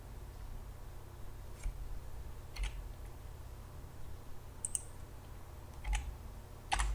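A few scattered, faint keyboard clicks from a computer user pressing shortcuts, isolated sharp taps spread over quiet room tone with no talking.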